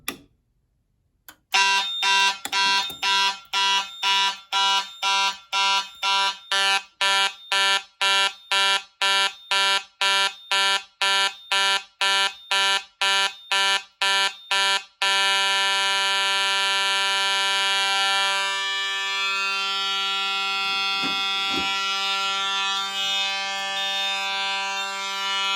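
A fire alarm on a test board starts after a key switch is turned on, with a harsh buzzing horn pulsing in rapid even beats for about fifteen seconds, then droning continuously. It is loud and close, with faint handling noises.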